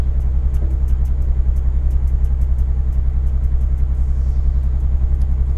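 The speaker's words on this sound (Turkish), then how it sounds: "Otobüsten yalnız öyle bir dolgun ses geliyor ki..." Mercedes O362 bus engine in Euro Truck Simulator 2, a deep, full, steady diesel drone cruising at constant speed, loud and close with a continuous low rumble and no talking.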